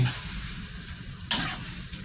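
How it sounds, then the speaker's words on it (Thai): Minced pork stir-frying for pad kra pao, a continuous sizzle under brisk stirring with one sharp clack of the utensil against the pan. "เราต้องคนไปเรื่อยๆ จนกว่าหมูจะสุกนะครับผม"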